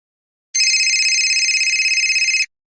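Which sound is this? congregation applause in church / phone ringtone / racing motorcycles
phone ringtone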